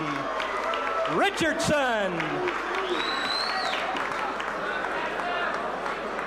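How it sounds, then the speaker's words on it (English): A crowd claps and cheers in a steady wash of applause while a ring announcer's amplified voice calls out loudly over it, introducing a boxer at a 1985 boxing match in Tyler, Texas. "How about a round of applause for Fast Eddie Richardson?"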